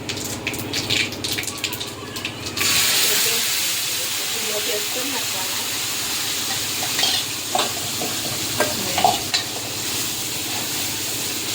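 Asafoetida, red chillies and a ground paste dropped into a sizzling mustard-seed tempering for idli sambhar, popping seeds giving way to a sudden louder steady hiss with occasional stirring clinks.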